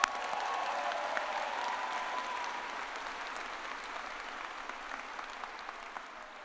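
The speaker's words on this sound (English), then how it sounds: "Let's give those outstanding graduates a round of applause." Applause for graduates at the Kean University 2024 graduate commencement ceremony, a large crowd clapping steadily in a big venue and tapering slightly over several seconds.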